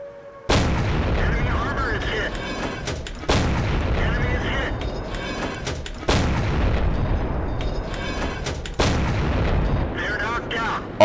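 Repeated heavy artillery shell firing in World of Tanks from a T49 tank destroyer: four loud booming blasts spaced about three seconds apart, each with a sharp attack and a rumbling decay.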